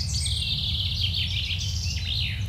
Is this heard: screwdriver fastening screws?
no